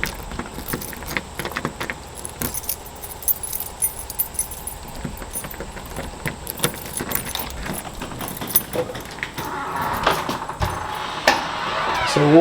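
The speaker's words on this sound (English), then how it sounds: "Got them keys, you know, got them keys." Keys jangle in a series of light metallic clinks outside a unit in a quiet cul-de-sac, close and moderately loud over faint road noise, with a brief rustle near the end.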